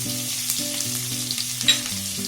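Chopped green garlic drops into hot tempering oil and sizzles in a steady, close hiss, with faint stirring and light background music underneath.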